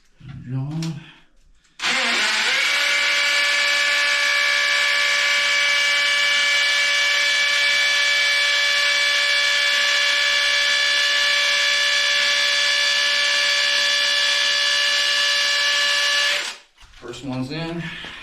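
A power drill whines at a steady high pitch for about fifteen seconds, loud and close, driving screws while repairing a toilet flange, with brief talk just before and after.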